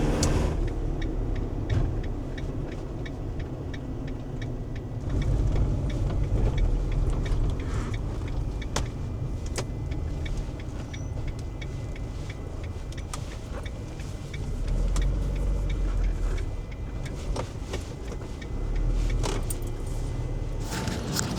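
Van driving on the road, a steady engine and tyre rumble heard from inside the cabin, with faint rattles and clicks throughout and no talk.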